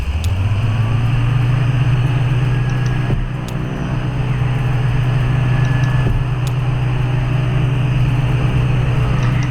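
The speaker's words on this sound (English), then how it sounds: "And let's drive away." A car driving away in Kentucky Route Zero, a steady loud engine drone with a low hum, faint ticks here and there, no talk.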